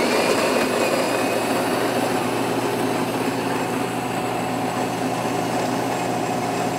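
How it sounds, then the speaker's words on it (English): A Jura ENA Micro 1 coffee machine grinds beans and brews a strong long coffee with a steady, even mechanical whir and hum that holds constant and close throughout, with no voices. "it's got nice quiet operation even throughout the grinding cycle and the brewing cycle"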